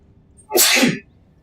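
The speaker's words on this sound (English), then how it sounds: "I feel a little sneeze going on." A single loud, close sneeze bursts out abruptly and stops, with quiet before and after.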